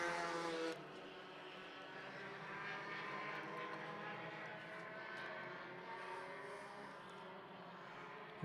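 Four-cylinder Roadrunner entry-level race cars lap a track at around 70 mph, making a faint, steady engine drone that swells and fades at a distance.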